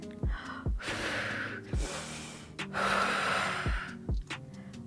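Heavy, sharp breathing during an advanced Pilates ab exercise: forceful gasping inhales and snorting exhales repeat in a steady rhythm, close and loud, with no talking.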